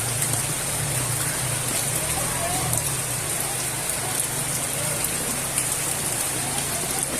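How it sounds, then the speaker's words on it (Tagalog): Heavy rain pours steadily onto a flooded street, a dense unbroken hiss of drops and water spray with a low background rumble, continuous and close. "Tuloy-tuloy pati ang ulan."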